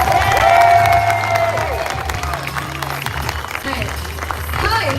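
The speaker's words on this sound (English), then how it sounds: "Give these guys a round of applause" Applause and cheering from a live crowd at an outdoor London stage event, steady and loud throughout, mixed with shouts and voices over a busy background.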